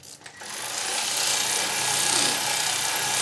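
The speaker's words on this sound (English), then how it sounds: "look at this, actual power tools" A power tool runs on a Citroen 2CV air-cooled flat-twin engine being dismantled, starting after a brief clatter and then holding a continuous loud whirring buzz with a bright, noisy edge.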